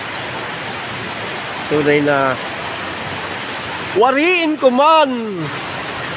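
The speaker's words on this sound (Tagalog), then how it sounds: "Kahit malakas ang ulan ngayon" Heavy rain pouring steadily as a dense, even hiss that fills the whole clip, with a voice speaking briefly over it twice.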